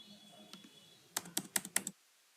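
Keys on a computer keyboard are pressed during a coding lesson, first in a few light taps and then in a quick run of about six crisp clicks close by, ending in silence.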